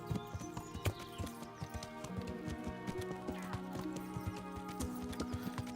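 Horse hooves clip-clop in steady, rhythmic strikes on ground in Kingdom Come: Deliverance, moderately close, with tonal background music underneath.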